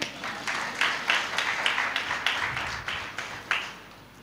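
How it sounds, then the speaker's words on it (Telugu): An audience at a church field training programme claps in a series of sharp, regular bursts, loud and fairly close, with a low murmur underneath. "అది క్లాప్స్ కొట్టి గట్టిగా"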